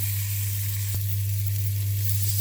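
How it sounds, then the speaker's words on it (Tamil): Boiled eggs roast in a spiced masala in a pan, giving a steady sizzle over a constant low electrical hum, with one brief click partway through and no voices. "இந்த மசாலா நல்லா மிக்ஸ் ஆகிற மாதிரி ஒரு 5 மினிட்ஸ் நல்லா கலந்து ரோஸ்ட் ஆகட்டும்"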